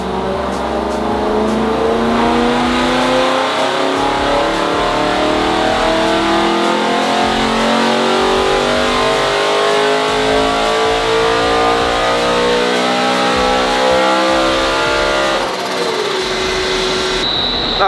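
A BMW M3 engine revs hard and continuously during a tuning run, loud and close, its pitch rising and falling in repeated sweeps with no voices.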